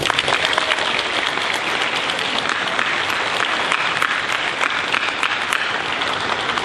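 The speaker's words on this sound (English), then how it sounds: "Let's have a round of applause for Brenda." An audience claps steadily at an 8th grade middle school celebration, a dense, loud and sustained round of applause from a full crowd.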